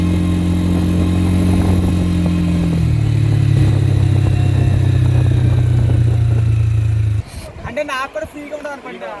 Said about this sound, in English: deciding to take a beach bike and cover the last few hundred meters.